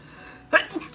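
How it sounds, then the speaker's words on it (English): A person sneezes once, a short sharp burst close to the microphone, preceded by near silence and followed by a brief trailing breath. "Have to sneeze."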